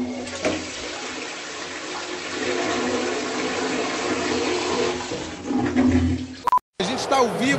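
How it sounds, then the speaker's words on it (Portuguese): A broken-flush toilet gives a loud rushing flush with water churning and draining steadily for several seconds, recorded close up, then the sound cuts out abruptly before a voice begins speaking over the room. "A privada vivia quebrando a descarga?"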